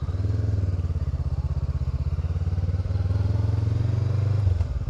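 A rider on an Africa 500 motorcycle is underway, and the engine drones with a steady, rapid pulsing close by. It runs continuously and loud, with a slight shift partway through and no talking.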